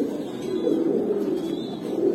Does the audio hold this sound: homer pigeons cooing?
yes